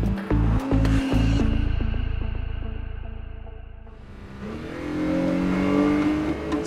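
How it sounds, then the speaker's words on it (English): A powerful 2022 Acura NSX Type S engine revs hard, its pitch swooping up and down, then settles into a deep idle before climbing again in a loud, close roar. "It can best be described as the pure sound of the engine."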